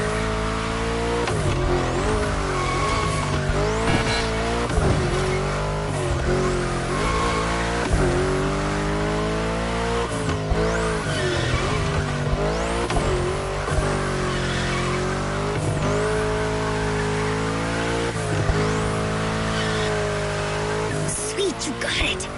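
Car cornering hard in The Crew Motorfest racing game, engine droning steadily with repeated pitch swoops as tires squeal and skid through turns, continuous and loud with a voice talking over it.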